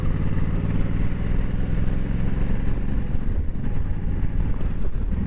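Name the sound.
Suzuki Intruder 1500 motorcycle riding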